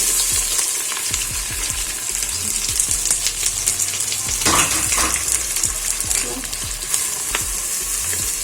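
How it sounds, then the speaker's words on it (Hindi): Chopped onions, five of them, fry in butter for a mutton makhni karahi, giving a steady, close sizzle throughout, with occasional stirring scrapes and light clinks over the constant crackle. "ये हम इसमें मक्खन में फ्राई करेंगे"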